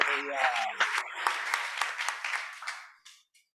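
Church congregation breaking into applause during a sermon, a dense wash of clapping mixed with cheering voices that fades out after about three seconds.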